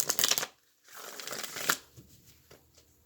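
Tarot cards are riffled and shuffled in quick bursts, close up, with a pause between a loud flurry and a softer second shuffle.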